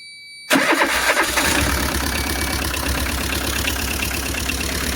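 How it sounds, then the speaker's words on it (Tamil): After half a second of near silence, a Tata Ace engine cranks and catches following a dynamo repair, then settles into a loud, steady idle rumble, with no talking. "இப்போ வண்டி ஸ்டார்ட் பண்ணி பார்த்துக்கலாம்."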